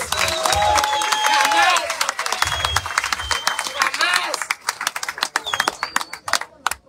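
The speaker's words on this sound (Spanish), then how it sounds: "Otro aplauso para Don Winter" A crowd at a store event claps and cheers with voices mixed in, dense at first and then thinning into scattered, sharper individual claps near the end.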